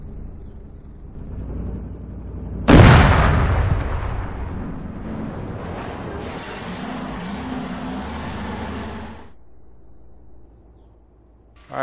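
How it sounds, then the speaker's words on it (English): Enemy tanks firing armour-piercing rounds in Arma 3's Ragnarok'44 setting: a single loud, sharp blast followed by a long rumbling decay and a rolling engine-like drone that fades out. "He's getting hit by AP rounds from enemy tanks."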